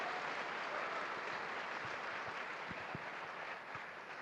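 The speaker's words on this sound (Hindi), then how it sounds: "तो एक बार आप ताली बजा दो" Audience applause from a crowd at a business talk event, a steady dense clapping wash that holds at an even level throughout, with no voices over it.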